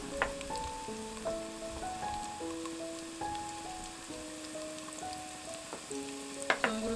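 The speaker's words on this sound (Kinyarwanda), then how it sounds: "Igitunguru na poivron bihiye, turashiramo tungurusumu" Onion, bell pepper and garlic fry in a pan with a continuous crackling sizzle, and melodic tones and faint clicks sound in the background.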